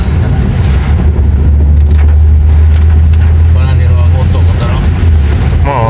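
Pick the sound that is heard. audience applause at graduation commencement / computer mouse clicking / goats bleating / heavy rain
heavy rain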